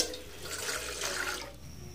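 Water for cooking Maggi noodles pours and splashes in a steady, moderately quiet rush that fades toward the end.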